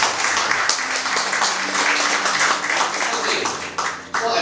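An audience at a real estate agency career-sharing event applauds the company CEO, a full, continuous round of clapping from a large crowd that thins slightly near the end.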